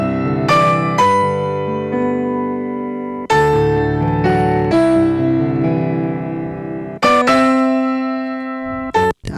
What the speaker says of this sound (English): So the piano starts the whole song, and it sounds really subtle.